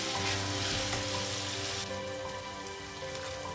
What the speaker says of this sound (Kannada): ತೊಂಡೆಕಾಯಿ, ಸ್ವಲ್ಪ ಫ್ರೈ ಮಾಡ್ಕೋಬೇಕು.